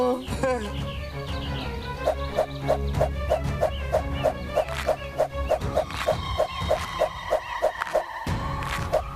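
A voice imitates a dog with a long run of quick, evenly spaced yapping barks, fairly close, over a steady background hum.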